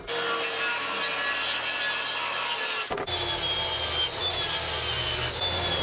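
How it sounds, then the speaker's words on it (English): A saw cutting through 1/2-inch plywood for the frame of a shop air filter built from a furnace blower, heard as a steady, loud rasping cut with a brief break near the middle before the cutting resumes. "Now I'm going to start cutting some 1/2-inch plywood that's going to make up the frame of this."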